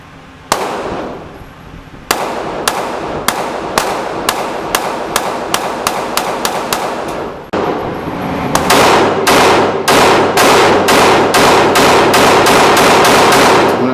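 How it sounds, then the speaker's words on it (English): A Taurus PT111 G2 9mm pistol fires a full magazine of full metal jacket rounds in rapid succession: two strings of loud, sharp, closely spaced shots with a short pause between them, and no talking. "I did a magazine of full metal jackets, just a mag dump rapid fire."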